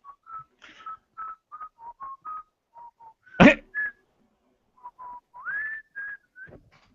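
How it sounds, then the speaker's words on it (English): Someone whistles "Come On Eileen," clear piercing notes in short phrases, interrupted midway by a loud sharp burst like a sneeze or cough. "I just felt like whistling"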